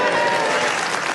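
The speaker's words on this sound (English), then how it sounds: "his family will be delighted to hear that extra round of applause" Studio audience at a radio panel game show breaks into sustained, dense applause, loud and steady throughout with no speech over it.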